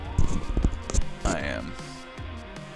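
A police siren in a driving video game, wailing with a rising and falling sweep for about a second, mixed under loud game effects and excited talk.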